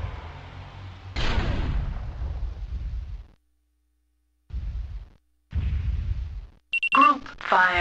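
Group-fired mech weapons in the MechWarrior 2 video game boom in heavy, loud blasts and sustained rumbling bursts, broken by brief silences and followed by electronic beeps.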